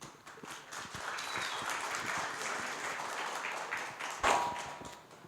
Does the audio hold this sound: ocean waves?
no